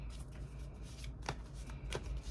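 Tarot cards being shuffled up close, soft riffling and slapping bursts repeating in an uneven rhythm at low volume, with no talk.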